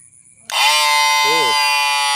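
A strange electronic sound said to hypnotize birds starts abruptly after a short quiet: a loud, buzzy, harmonic-rich tone that holds steady, with a brief warbling dip partway through.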